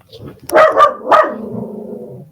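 A dog barks in a home, set off by a neighbour's loud car starting up: three close, loud barks in quick succession, trailing into a growling whine, with no talk over them.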